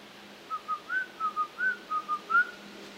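Someone whistles outdoors in a series of about nine short, clear rising and falling notes in a steady rhythm, fairly quiet and alone, with nobody talking.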